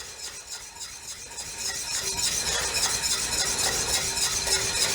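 A utensil stirs nearly boiling water in a pot being readied for cooking eggs, giving a steady close scraping swirl with a bubbling hiss that grows slightly louder, with no talking.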